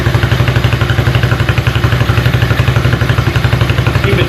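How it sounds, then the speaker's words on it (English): A 125 Blazer engine idles on its own after a tune-up, a loud, steady, rapid putter with clattering mechanical noise, close up and with no voices. "it is idling on its own"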